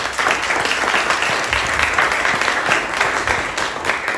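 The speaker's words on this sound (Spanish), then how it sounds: "Dale un fuerte aplauso a Jesús" Church congregation gives a strong, continuous round of applause, dense clapping at an even level throughout with no talking over it.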